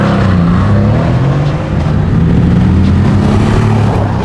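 Mercedes-Benz C63 S AMG Edition 1 from 2016 driving with its exhaust set to loud, giving a deep, steady engine drone heard from inside the car, with no talking.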